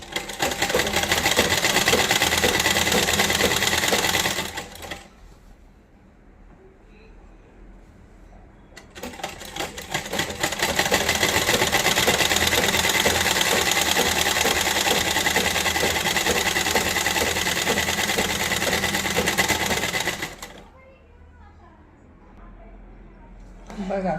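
Sewing machine stitching a blouse, running in two long loud bursts with a fast steady clatter and a quiet pause between them. Someone talks during the pauses.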